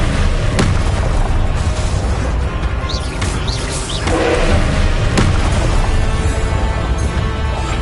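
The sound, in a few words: spell explosions from the video game Hogwarts Legacy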